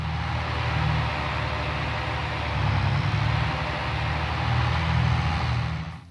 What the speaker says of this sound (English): As we drive over uneven terrain, we can hear the tone of the engine constantly shift